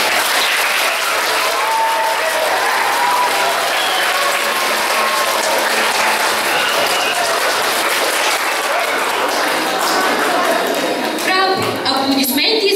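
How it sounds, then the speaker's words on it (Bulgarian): A school audience at a primary school's anniversary celebration in Pleven, Bulgaria, applauds a student's recitation with dense, steady clapping that stays loud and close for the whole stretch. "Аплодисменти за Християн"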